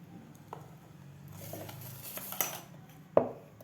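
A steel mixer grinder jar is handled on a kitchen counter with soft rustling and scraping, then clanks sharply when set down, with a clear metallic knock and a final clink at the end.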